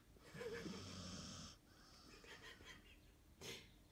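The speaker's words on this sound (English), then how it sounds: "Why are you snoring?" An Alaskan Malamute snores while lying awake, a raspy, wheezing drawn-out snore followed by quieter breathy rumbles and a short snort at the end, close and soft.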